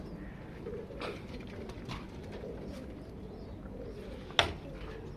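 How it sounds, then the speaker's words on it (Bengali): Pigeons in a clean breeding loft keep up a low, steady cooing throughout, with one brief sharp click or flutter near the end. "এই যে সব পরিষ্কার কবুতরের ঘর, দেখেন"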